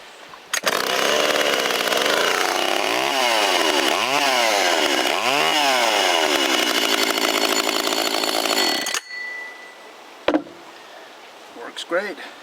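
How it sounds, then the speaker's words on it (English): A small old vintage Stihl chainsaw starts abruptly and roars loud and close for about eight seconds, revving up and down three times in rising and falling sweeps, then cuts off, leaving a few clunks and knocks. "let's see if the little Stihl runs here"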